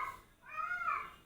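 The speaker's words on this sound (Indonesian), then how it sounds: "Nah, itu suara kucing itu, tidak usah dipersoalkan." A cat meows once, a faint drawn-out cry rising and falling over quiet background hiss, heard from some distance during a sermon.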